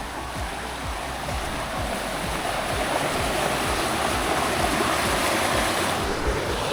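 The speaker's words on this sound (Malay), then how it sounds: "So sini ada mini air terjun." Steady rush of falling water from a small waterfall in Kiriwong Village, Nakhon Si Thammarat, Thailand, constant and fairly close, with splashing texture throughout and no voices.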